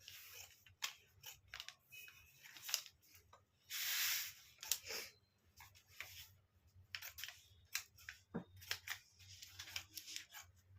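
Scissors cutting paper for a plain blouse pattern: a series of crisp, close snips at irregular intervals, with a longer rustling swish partway through and quiet pauses between cuts.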